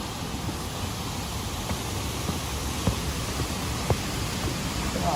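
River water flowing steadily toward Mallali Waterfalls in Coorg, a broad continuous rushing wash close by, with a few faint knocks.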